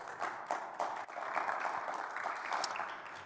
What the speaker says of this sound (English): I think we actually should just cheer for that